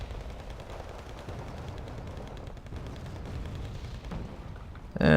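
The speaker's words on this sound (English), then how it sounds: "here come the mortars" Mortar fire and battle noise in a real-time strategy game, a dense continuous rumble of shots and blasts at moderate level with a sharper burst right at the end.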